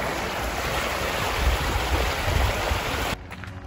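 Water rushes steadily in Hat Creek, a broad continuous wash close by and fairly loud, cutting off abruptly near the end.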